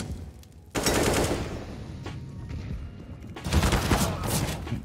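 Automatic rifle fire in the video game CS:GO: dense, continuous bursts of loud gunfire that start abruptly, ease slightly, then intensify again, with a single sharp shot in between.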